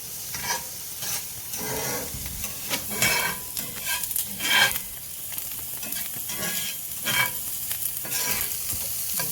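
Onions fry and caramelize in a pan, a close hissing sizzle punctuated by repeated scraping bursts of stirring that swell and fade unevenly throughout.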